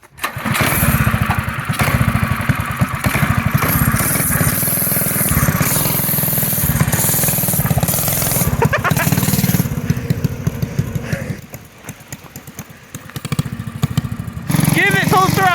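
An 8HP scooter engine revs hard at full throttle, a loud, close, buzzing drone with rapid firing pulses. It drops off briefly, then surges again, and a voice speaks over the engine at points.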